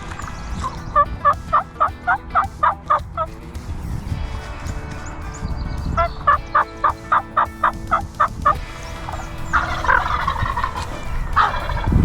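Two long bursts of rapid, rhythmic turkey gobbling ring out, separated by a pause, followed by further clucking and calls over a low background rumble.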